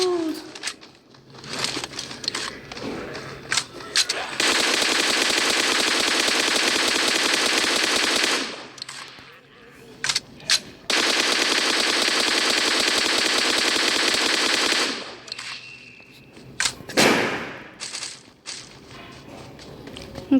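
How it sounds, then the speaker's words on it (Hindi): Firecrackers burst in the background in long, dense crackling volleys, loud and sustained for several seconds at a time, separated by quieter gaps with scattered pops. "एक्चुअली पटाखे फूट रहे हैं पता नहीं कहाँ से"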